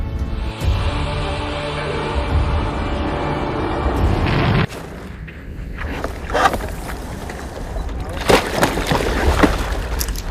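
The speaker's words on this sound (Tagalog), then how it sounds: "Naririnig mo ba ang maayos na pagtakbo ng motor?" A steady motorcycle engine drone with a strong low hum and a hiss over it, shifting pitch partway through and continuing throughout, with no talking.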